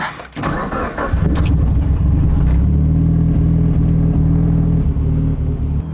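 A tuned Mitsubishi Evo engine cranks briefly and fires up, then settles into a loud, steady, close-up rumbling idle that holds to the end, with no talking.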